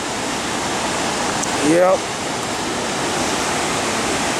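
The natural waterfall at Man, Côte d'Ivoire, in West Africa roars as a continuous broadband rush heard from a distance, with a single short spoken word briefly over it.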